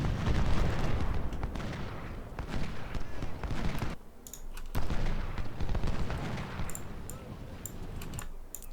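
Artillery and musket fire at the Battle of Fredericksburg in Ultimate General: Civil War: a heavy, rolling din of cannon booms and crackling volleys, briefly dropping away before the rumble returns with scattered sharp reports.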